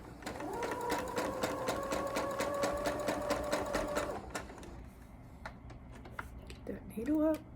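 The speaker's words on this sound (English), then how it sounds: "And then sew it down" A sewing machine runs a quarter-inch quilt seam with a fast, even needle rattle for about four seconds, then stops, leaving scattered faint clicks and a brief voice at the end.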